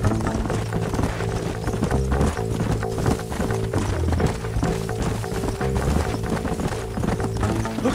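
Horses gallop in the Red Dead Redemption video game, a steady, loud clip-clop of hooves running continuously throughout, with no talking.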